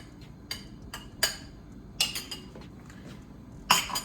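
A utensil stirring slurry into a dish in a pot, with sharp metallic clinks and scrapes arriving at irregular intervals, some louder than others, over a quiet background.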